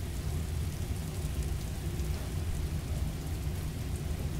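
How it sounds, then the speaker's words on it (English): Steady, dense rainfall with low rumbling undertones in the video game Scarlet Nexus, a continuous wash of noise at even loudness with no talk. "It's raining."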